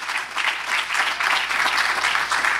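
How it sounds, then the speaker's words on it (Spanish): Congregation clapping loudly during a church sermon, a dense, sustained round of applause from many hands filling the hall without pause. "Denle un aplauso al Señor fuerte."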